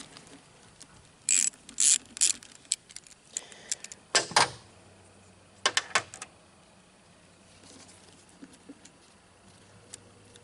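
A ratchet with an 11 mm socket loosens bolts on a Mercury 30 hp outboard motor, giving short bursts of sharp clicking separated by pauses, close and fairly quiet, with no talking.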